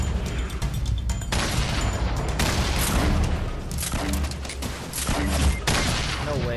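Gunfire in the Fortnite battle royale video game, dense bursts of shots and booms running almost continuously and loud throughout, with brief pauses between volleys.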